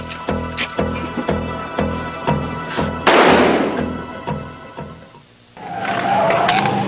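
Gunshots ring out inside a safe house in a film soundtrack: a rhythmic series of sharp thumps, then a loud broadband blast near three seconds, a brief lull, and a rising whine with noise at the end.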